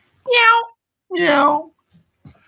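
Two clear, drawn-out cat meows, close and fairly loud, separated by a short pause, followed by a couple of faint soft sounds.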